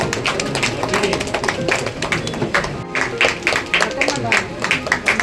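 A crowd at a DMK ward gathering claps hands in a dense, continuous patter of loud, close claps, with voices talking underneath throughout.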